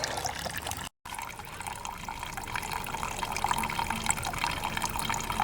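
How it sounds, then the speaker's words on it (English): Gasoline draining from the gas tank of a Homelite pressure washer with a Honda 179cc side-shaft engine, a steady continuous trickle and pour running throughout at moderate level, with no talking. "I'm just draining out the gas tank"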